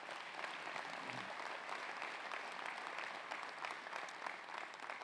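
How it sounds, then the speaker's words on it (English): A large audience at a sports hall of fame banquet applauds sponsors, producing a continuous wash of many hands clapping, steady and fairly distant, with faint crowd murmur beneath. "Let's give them a round of applause as well."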